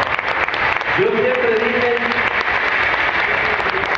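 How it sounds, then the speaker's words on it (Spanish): A comedy show audience at a fair applauds for the women, a dense, sustained wash of clapping while someone speaks into a microphone over it. "Un aplauso a las mujeres, por favor."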